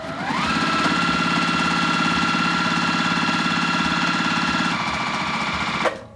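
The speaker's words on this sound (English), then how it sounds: "you're gonna sew all the way down both sides" Sewing machine running steadily and loudly as it stitches straight down both sides of paired quilting fabric strips, a continuous rapid mechanical whir with a brief pitch shift near the end before stopping.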